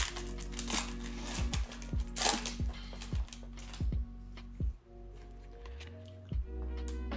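A Pokémon Sun and Moon Crimson Invasion booster pack is torn open close to the mic, with crinkly plastic wrapper rustling and a run of sharp tearing and crackling bursts against a steady low background hum.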